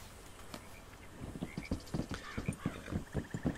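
Horse hooves clip-clopping in Red Dead Redemption 2, a steady walking rhythm of distinct thuds that grows louder and closer over a few seconds, with faint birdsong behind.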